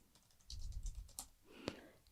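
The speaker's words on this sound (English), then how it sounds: "Just start typing" Keys clatter in a quick burst of typing on a computer keyboard, close and fairly quiet, followed by a sharper single click.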